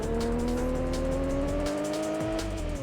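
In the PS1 racing game Option Tuning Car Battle 2, a car engine drones with a rising pitch while tyres squeal continuously, loud and close, with no talking.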